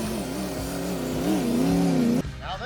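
A 2002 Chevy Silverado truck engine running and revving steadily, a close, loud droning rumble with rising and falling pitch that cuts off abruptly near the end.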